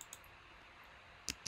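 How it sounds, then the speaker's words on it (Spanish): Sharp mouse clicks in a video editing session, one faint tick early, then a distinct pair of close clicks near the end with quiet room tone between. "Entonces le estaba dando clic."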